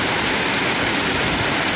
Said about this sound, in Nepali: कस्तो पानी आयो कति ठुलो पानी